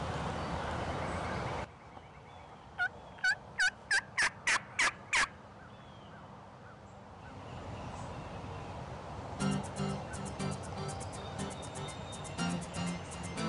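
Outdoors in Indiana turkey woods, a wild turkey gobbler gives a rapid series of sharp, rattling gobble pulses, fairly loud and close, then softer clucks and rustling over steady background noise.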